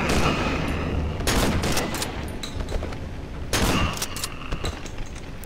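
Heavy rifle gunfire in the horror video game Cry of Fear, a loud, nearly continuous barrage of overlapping shots with two sharper, denser volleys standing out.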